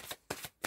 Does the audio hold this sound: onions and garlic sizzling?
no